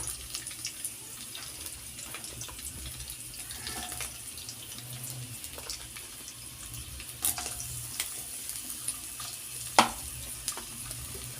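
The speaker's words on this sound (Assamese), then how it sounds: "পিঁয়াজখিনি প্ৰথমতে মই অকণমান ৰঙচুৱাকৈ ভাজি ল'ম।" Onions fry in oil with curry leaves in a pan for a dry potato fry, a soft continuous sizzle broken by occasional scrapes and clinks as the spatula stirs, close and fairly quiet.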